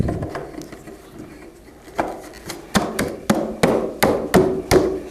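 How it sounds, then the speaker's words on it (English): A rubber mallet taps an end cap into place on a DirectAire recessed wall inlet, starting with soft light knocks and building to a series of sharper, evenly spaced thuds, close by, with no talking. "Just take a rubber mallet, tap these end pieces in until these holes line up."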